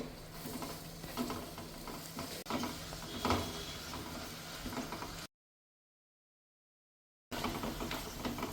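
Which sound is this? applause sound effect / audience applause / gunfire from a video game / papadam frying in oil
papadam frying in oil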